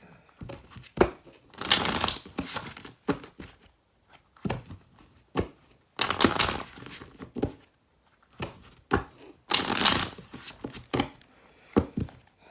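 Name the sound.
shuffling a deck of cards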